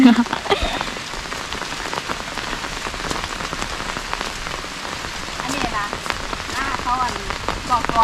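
Steady rain patters on a surface by rice fields in the evening, dense and continuous, with faint voices in the background.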